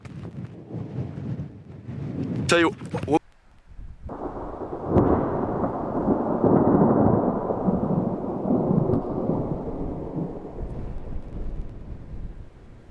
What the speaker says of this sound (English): but the thunder is hitting pretty good too